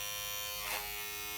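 An electric hair detailer trimmer with a ceramic blade runs with a steady, continuous high-pitched motor buzz at close range, slightly swelling midway, with no talking.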